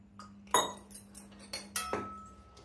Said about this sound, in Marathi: असं हलवून घ्यायचं.